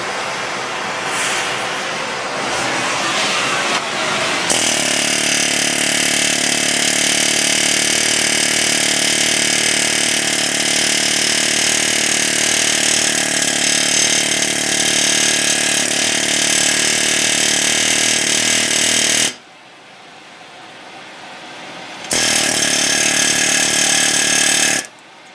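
A power hammer pounds heated knife steel during forging, a loud, rapid mechanical hammering over an engine-like drone that runs for about fifteen seconds. It drops to quieter background noise, then resumes abruptly for a few more seconds.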